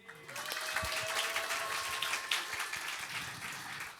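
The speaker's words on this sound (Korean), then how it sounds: "이렇게 열렬히 환호해 주셔서 감사합니다" A church young adults' group audience applauds and cheers at the opening of a Christmas-season Q&A event with a pastor, steady broadband clapping sustained for several seconds at moderate level with scattered shouts.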